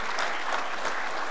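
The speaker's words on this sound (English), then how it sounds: "let me just applaud these guys" A short, even burst of audience clapping for sponsors at a security technology conference, a steady wash of applause with no talking over it.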